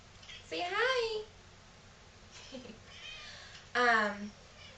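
A kitten meows at home in two clear, drawn-out cries, one early and one near the end, close and fairly loud, with quiet room noise between them.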